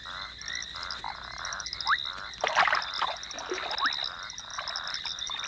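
Many frogs call at a pond at night, a dense chorus of repeated croaks, whistles and trills layered over a constant high insect-like drone, near and far voices overlapping continuously.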